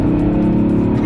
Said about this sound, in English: 500 horsepower, well, 507 horsepower V10, naturally aspirated V10, and it makes a hell of a noise